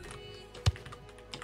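Keys clatter on a computer keyboard during a football video game, with soft quick taps and two louder thumps spaced apart, close and quiet.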